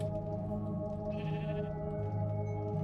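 Sheep bleating in Minecraft, a single wavering bleat over a steady background tone from a Halloween-themed texture pack, fairly quiet and alone.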